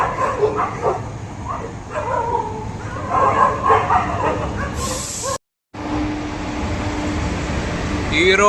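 Several dogs bark and yelp as a passenger train with a WP locomotive passes on the Konkan railway during the monsoon; the barks are scattered over train and ambient noise, with a brief dropout, then a steady rumble.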